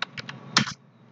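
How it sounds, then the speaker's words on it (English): Typing on a computer keyboard gives a few quick, close key clicks over about a second, with one slightly louder cluster of presses. "I'm going to type this"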